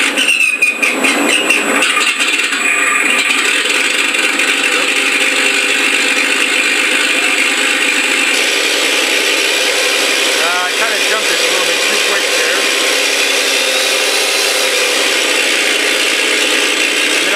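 Mr. RCSounds V4 sound system in an FMS Stuka RC plane playing a simulated engine idle, a steady rattling mechanical drone held for well over fifteen seconds, close and constant with no talk.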